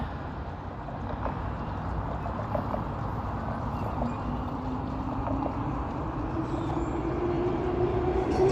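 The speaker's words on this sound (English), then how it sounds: "There's another train going towards downtown." A train rumbles past in Etobicoke, Toronto, near Bloor Street West, with a steady, heavy low roar that builds slightly, and a faint rising squeal of wheels creeps in near the end.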